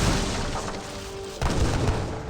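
A battle in Age of Empires 3 with heavy cannon and musketeer fire: a dense wash of gunfire and a deep boom partway through, the crackling din continuing after it.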